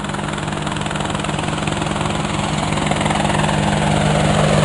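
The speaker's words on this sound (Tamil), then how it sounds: "உலங்கு வானூர்தி. உலங்கு வானூர்தி." A helicopter flies close by, its rotor producing a loud, steady chopping thrum with a droning engine tone that grows slightly louder toward the end, with no voices.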